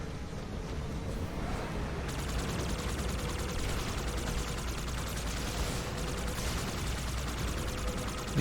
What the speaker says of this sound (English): Oh shit, turrets everywhere.